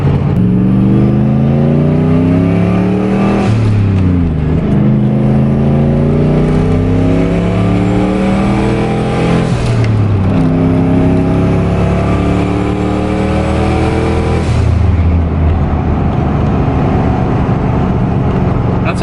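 A turbocharged 4.6-litre two-valve Ford Mustang GT engine with a 70 mm turbo revs hard through several gear shifts, pitch climbing and dropping repeatedly, loud and close, with a faint turbo whine and occasional talk underneath.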